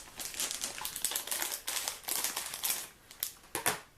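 Crinkly plastic candy bags being cut and torn open for gumballs, a steady run of close, bright rustling and crackling with a few sharper snips toward the end.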